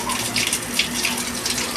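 Water pours steadily into a Gilman ram pump during operation, a continuous splashing gush close by at a fairly loud level, with no speech.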